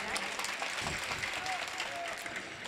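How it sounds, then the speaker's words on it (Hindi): Audience clapping during an Urdu poetry recital (mushaira) in Bihar; a steady but fairly soft round of applause with a few faint voices mixed in. "आता एक बार जोरदार तालियां बजा दे हजरत।"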